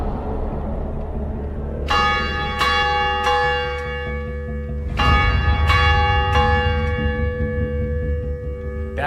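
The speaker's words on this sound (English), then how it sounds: "so that's the original bell that came with the church" A church's original 1885 bell rings overhead, heard close and loud, with several strong metallic strikes whose bright ringing tones decay and overlap over a low rumble.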